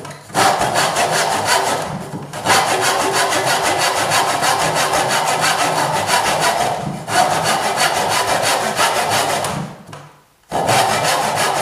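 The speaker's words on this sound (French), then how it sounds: "mon coup de scie à faux plat." A hand saw cuts into wood while shaping a double-fork splice joint for a furniture post, giving long rhythmic rasping strokes close up, with brief pauses between bursts.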